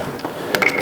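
A socket wrench ratchets briefly on a bolt of a Suzuki Burgman 650 scooter, a few quick close metallic clicks.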